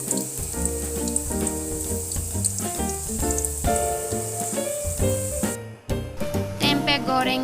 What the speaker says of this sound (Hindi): अब हम टेम्पे फ्राई कर रहे हैं।